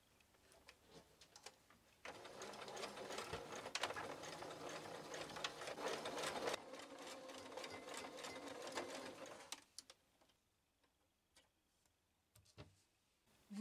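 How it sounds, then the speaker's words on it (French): A sewing machine stitches along a folded fabric edge for a Christmas table piece, a steady rapid mechanical run of about eight seconds, fairly quiet, followed by a few soft clicks and near silence. "Vous piquez ce bord-là, début et fin point d'arrêt"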